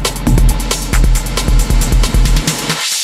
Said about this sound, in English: So we've got a nice high-pitched tail there.